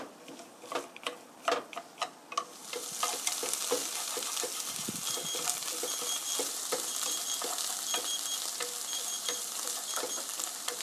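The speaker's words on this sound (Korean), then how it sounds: "10분 10분간 볶아주세요." Vegetables for spaghetti stir-fry in a pan, opening with a few distinct clacks of a utensil before a steady, close sizzle of frying sets in and continues with scattered scraping and tapping.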